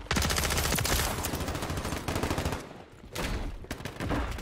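HRM-9 submachine gun fire in Modern Warfare 3 comes as loud, rapid automatic bursts of close shots, a long rattling stream, a brief pause near the three-second mark, then another burst.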